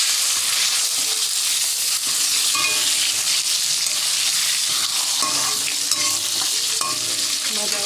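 Lentils frying in oil in a wok, a continuous bright sizzle with a spatula scraping and stirring in repeated strokes, close and fairly loud with no voices.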